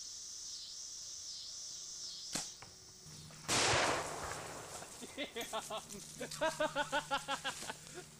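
A single sharp rifle shot at a deer on a hunting ranch cracks loud and close, then leaves behind a steady buzz of insects and bursts of low talk.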